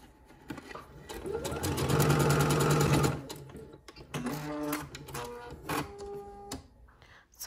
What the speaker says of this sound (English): you're going to stitch the front sections to the back at the sides